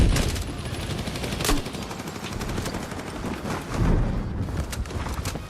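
Rapid 5.56 rifle fire in the video game Battlefield 6, with dense, continuous bursts of shots and sharp reports repeating throughout, loud and close with no talking.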